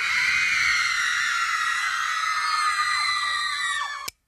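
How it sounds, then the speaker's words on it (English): A screaming machine plays back the shrieks of a teenage audience, a dense crowd of high-pitched sustained screams that carries on loudly and then cuts off abruptly. "I got a screaming machine right here. Yeah? It replaces a teenage audience."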